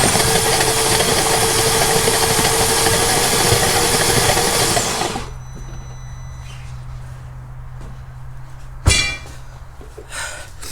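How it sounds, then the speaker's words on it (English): A flooded 2008 Mercedes CLK550 V8 engine is cranked, a loud, close, steady churning roar lasting about five seconds that cuts off abruptly, leaving a low hum and then a single sharp metallic clang. "now I'm gonna briefly crank the engine"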